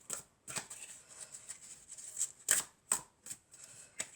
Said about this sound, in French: je vais peut-être prendre deux cartes.